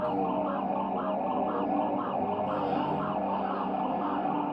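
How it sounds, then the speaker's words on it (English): A siren-like wavering tone runs through a layered song, rising and falling in a steady repeating sweep over dense music throughout. "this has like a siren kind of sound to it."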